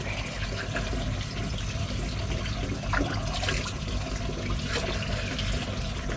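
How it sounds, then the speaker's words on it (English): Water poured into a container for an aquarium or pond tank setup in a shop, a steady broadband splashing and trickling that runs continuously throughout, moderately close, with no talk over it. "Get a little bit more water in there."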